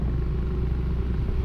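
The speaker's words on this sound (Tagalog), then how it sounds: "Motor to ni Katilong ah." A motorcycle engine idles in a steady, close, low rumble with a faint rattle, holding an even level throughout.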